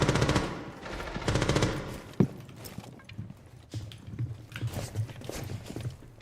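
Rapid automatic gunfire from the video game Rainbow Six Siege rattles in quick bursts, followed by scattered single shots and clattering footsteps at moderate volume, with faint voices now and then.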